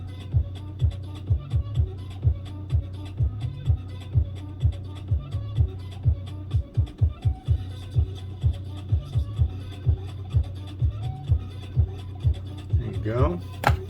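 A knife slicing through pork belly on a cutting board, with steady, close thuds of the blade striking the board, evenly spaced and quickening midway, under quiet background noise.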